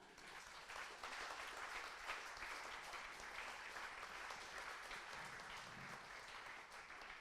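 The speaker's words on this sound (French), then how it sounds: "Je crois que c'est un point important qui mérite sans doute vos applaudissements." An audience at a public event in a small community claps in a steady, dense round of applause that swells after a brief quieter start and holds throughout, heard from a moderate distance.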